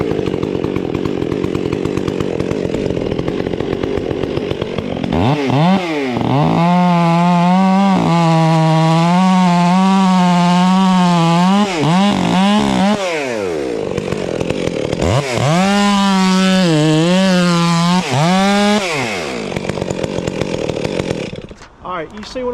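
A chainsaw fitted with a 25-inch bar cuts into a huge hackberry tree, its engine revving hard in two long loud bursts that sag and rise under load, with idling and outdoor noise between.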